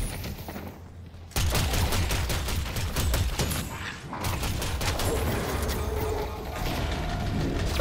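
Explosions and chaotic combat sounds from bombs thrown at a player in the video game Deadlock, a dense, loud, continuous barrage of blasts and clatter after a brief quieter opening.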